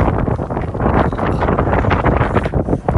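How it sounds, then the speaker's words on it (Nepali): Strong, gusty cold wind roars and buffets the microphone continuously, loud and close throughout. "क्या चिसो हावा आइरहेको छ।"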